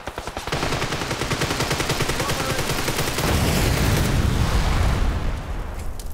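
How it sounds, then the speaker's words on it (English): Gunfire in the battle royale game PUBG: rapid automatic bursts crackle almost without pause, loud and close, with heavier shots thickening the barrage toward the end. "Shots at Zastro."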